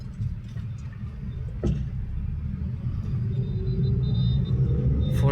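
Heavy road traffic heard from inside an auto-rickshaw on a hot day, a constant low rumble of engines and tyres close around, with a single sharp tick partway through.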